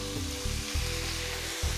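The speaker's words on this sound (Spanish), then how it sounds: "Seguimos salteando." Carrot strips sizzle steadily as they sauté in a pan, a close, continuous frying hiss with a low hum beneath and no talking.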